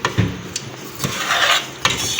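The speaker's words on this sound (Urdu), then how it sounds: "میکرونی میں نے سارے شامل کر دیے ہیں، ابھی اس کو ہلائیں گے" Boiled macaroni is stirred in a cooking pot, with soft scraping and a few light knocks of the spoon against the pot's side, close and moderately quiet.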